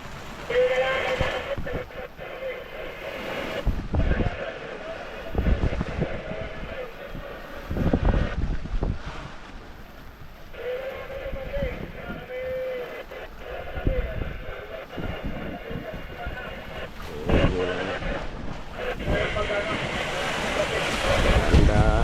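High Pacific Ocean waves slap and surge around a boat in rough conditions, with heavy wind buffeting the microphone and steady engine and water rush. Bursts of spray and sloshing rise and fall throughout, and someone talks at times.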